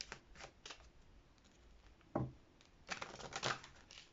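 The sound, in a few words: cutting a deck of tarot cards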